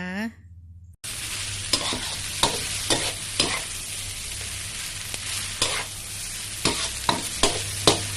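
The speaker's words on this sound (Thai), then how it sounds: "ผัดคลุกเคล้าให้เข้ากันอีกครั้งหนึ่งนะคะ" Glass noodles with egg being stir-fried in a hot pan: a continuous loud sizzle broken by repeated sharp scrapes and clanks of the spatula against the pan, after a quiet first second.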